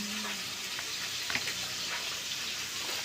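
Galunggong fish deep-frying in hot oil, a steady, even sizzle and crackle with faint pops, heard alone without talk.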